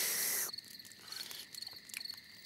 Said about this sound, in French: Ce que tu entends, ce sont les criquets qui chantent.